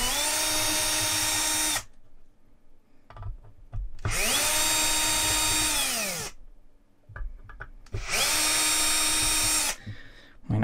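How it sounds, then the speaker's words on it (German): A cordless screwdriver takes apart a hard drive, its motor whirring in three loud bursts of about two seconds each, pitch rising at the start and falling at the end, with quiet handling noises between. "Mein Akkuschrauber hier leistet mir auch treue Dienste"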